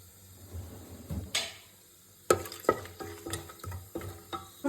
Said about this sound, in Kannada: ಇದನ್ನು ಫ್ರೈ ಮಾಡ್ಕೊಳ್ಳೋಣ